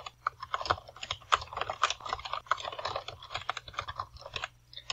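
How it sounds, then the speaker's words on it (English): Typing on a computer keyboard while composing a text message in the Twilio texting tool, a steady run of close, crisp key clicks of varying loudness with no talking. "So I'm just typing a text message here"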